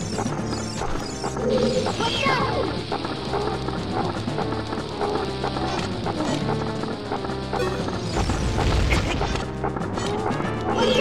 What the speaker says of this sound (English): I blow up the bombs